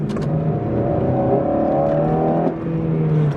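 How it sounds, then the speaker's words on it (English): A 8th-generation Honda Civic Si engine drones steadily with a throaty, rising intake hum, close and loud, no voices over it. "one thing that's really underrated about this car is like the intake noise"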